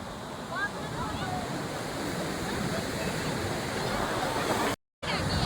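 Rough, stormy sea waves roll onto the beach at Madhupur, a continuous loud wash of surf mixed with wind rumble that cuts out briefly near the end.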